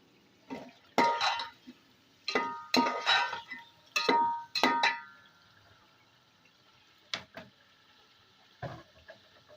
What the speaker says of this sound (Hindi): अब इसको अच्छी तरह इसको डाल के भूनना है आपने